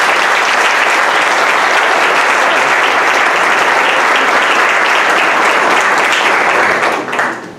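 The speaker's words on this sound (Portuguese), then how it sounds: "As palmas louvam ao Senhor." A church congregation bursts into loud, dense applause that holds steady and close for several seconds, then begins to thin at the very end. No voices break through.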